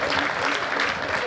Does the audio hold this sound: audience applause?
yes